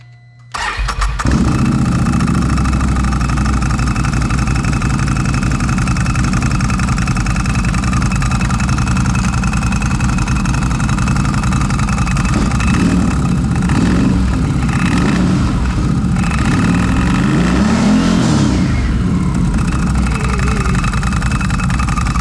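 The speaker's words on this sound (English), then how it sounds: "Now just fire your machine up in neutral and watch your secondary close up." A 2022 Can-Am Renegade 1000 XMR ATV engine cranks and starts in neutral, then idles loudly and steadily close by, with a few rises in revs toward the end.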